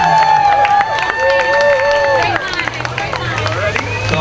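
A crowd cheers and applauds for a young 8U cheerleading squad at a youth sports event, with steady loud clapping and hubbub under an announcer's voice and tonal music throughout.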